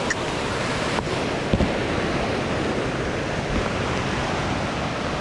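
Floodwater rushing during heavy rain, a dense, steady roar of water and rain with a few faint knocks, continuous and fairly loud throughout.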